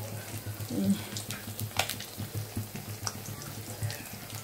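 Rohu fish pieces fry in a very hot wok, giving a faint, steady sizzling hiss with scattered small crackles and pops.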